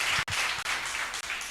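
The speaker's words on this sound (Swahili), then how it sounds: "Wapigieni makofi." An audience claps in a steady patter at a municipal MCAs debate in Kakuma, the applause broken by a few brief gaps and moderately loud with no voices over it.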